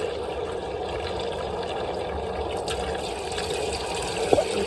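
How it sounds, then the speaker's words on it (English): Tap water running steadily into a sink, warmed to lukewarm for hand washing, a constant soft hiss and splash with a brief clink near the end and no talking. "make sure that I turned on my water, and I'm looking to achieve lukewarm water"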